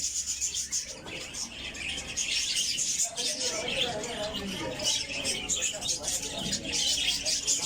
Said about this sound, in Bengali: পাখিগুলো অনেক সুন্দর পাখি, যে মানে খুব চঞ্চল।